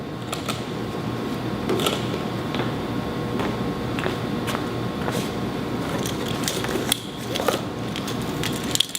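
A manifold is screwed into a mobile water system pump until snug, giving close, soft mechanical clicks and ratcheting ticks spaced irregularly over a steady low background hum.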